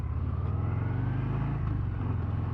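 A Harley-Davidson Breakout motorcycle accelerates from about 38 to 50 mph, its low, loud V-twin rumble pulsing steadily and close, with wind noise underneath.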